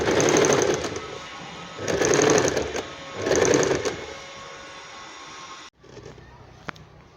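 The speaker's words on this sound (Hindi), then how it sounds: "चलो इसकी सिलाई लगा लेते हैं।" An electric sewing machine stitching a belted palazzo runs in three loud close bursts of rapid needle clatter, then falls quiet apart from a faint hum and one sharp click.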